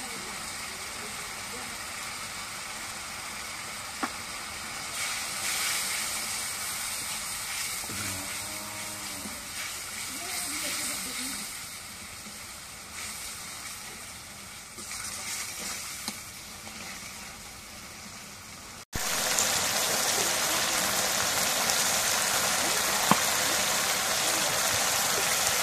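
A ground spice paste of ginger, cumin and garlic fries in a pan for a goat meat curry, giving a continuous broadband sizzle. The sizzle grows louder and brighter near the end, with a voice speaking over parts of it.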